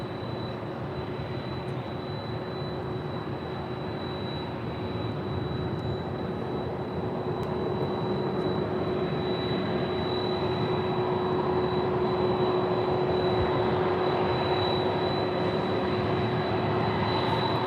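A Delta Airlines Boeing 767-400ER in Breast Cancer Research Foundation livery roars at LAX, a steady, sustained jet engine rumble that builds slightly in loudness over the whole stretch.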